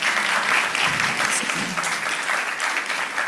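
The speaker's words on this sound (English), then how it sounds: "Let's give our speakers a round of applause." Audience applause after academic speakers finish at a conference session, steady dense clapping filling the whole stretch at moderate loudness, with no talk over it.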